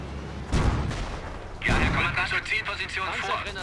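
Artillery fire rings out in the World War II strategy game Company of Heroes, two heavy booming shots about a second apart, each followed by a rumbling, crackling tail of battle noise.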